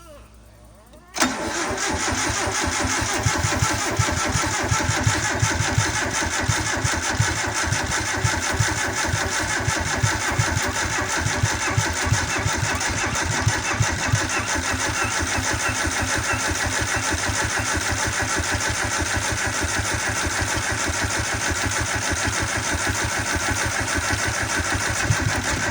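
Honda Civic engine cranking, catching and settling into a steady, loud idle with a pulsing rhythm that runs on throughout, close to the mic.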